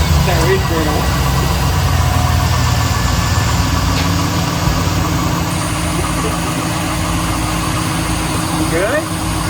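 A car engine idles steadily just after an oil change with fresh oil, a continuous low rumble running for nearly ten seconds while people talk nearby.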